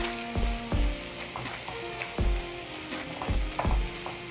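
Asafoetida and turmeric fry in hot oil with a steady, close sizzle for making Maharashtrian pithla, a besan curry. A spoon knocks against the pan now and then with sharp clanks.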